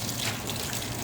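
A washing machine runs an extra rinse cycle, filling with a steady, close rush of gushing water that continues without a break.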